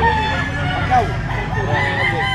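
Yellow-legged Boston Sweater gamecock crowing at a game fowl market in Bulacan, a loud rooster call rising over murmuring crowd babble and nearby talk.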